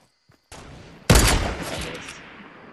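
Gunfire in the video game Fortnite: a sharp shot sounds at half a second, then a much louder, close burst follows and fades away over about a second and a half.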